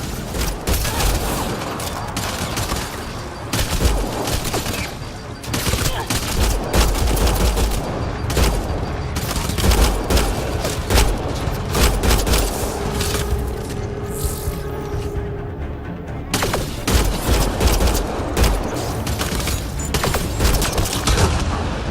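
Rapid gunfire rattles almost continuously through a Mass Effect: Andromeda firefight, loud repeated shots and bursts with booms, briefly thinning before the shooting resumes.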